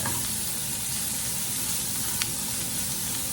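Onions fry for patty melts in a hot pan, giving a dense, steady sizzle close up that holds at an even level throughout.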